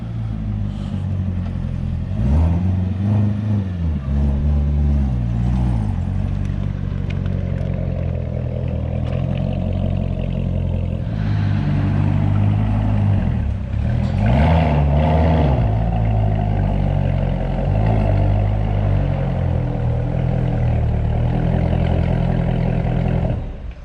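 C7 Corvette ZR1 in motion: a loud, deep engine rumble that swells and dips with speed changes throughout, steady and close, with no voices.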